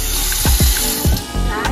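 Water splashes and gurgles loudly into a cup as it is poured, with a steady rushing stream broken by a few distinct glugging bursts, close and alone.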